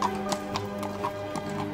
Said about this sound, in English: Aurora, let me teach you how to ride a horse.